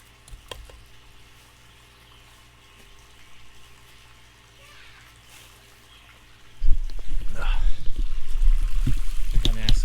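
Suction pump pulling murky, leaf-filled water across a backyard pond during cleaning, quiet trickling at first, then a loud, steady gurgling rush of water that starts abruptly and continues to the end.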